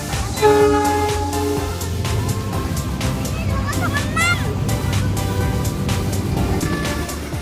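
A passenger train in Surabaya, Indonesia, rumbles loudly along the rails with its horn sounding near the start, steady clattering continuing as people aboard talk over it.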